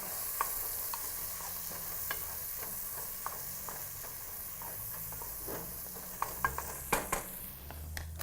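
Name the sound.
stirring seasoned food frying in a pan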